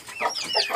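An Aseel hen clucks close by in two short bursts, loud and alone, with no talking.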